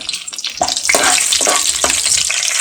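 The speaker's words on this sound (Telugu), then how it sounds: "ఎండుమిరపకాయలు, వీటిని చక్కగా మజ్జిగ కట్ చేసుకుని వేసుకోవాలన్నమాట." Dried red chillies fry in oil with a loud, close sizzle and crackle that swells after the first second, broken by a few spoon scrapes.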